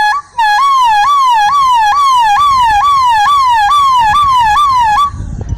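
A boy imitates a police car siren with his voice, producing about nine loud, clear wailing cycles that rise and fall in a steady rhythm before cutting off abruptly.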